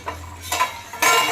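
A metal lid set onto a cooking pot of chicken curry, a few short clinks and scrapes of metal on metal, close and fairly loud, with no talking.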